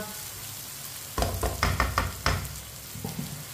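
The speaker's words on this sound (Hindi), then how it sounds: "प्याज को भी 3 मिनट के लिए पका लिया मैंने।" Onions frying in a pan: a quiet start, then loud bursts of sizzling and stirring come in quick succession, close by, before easing off near the end.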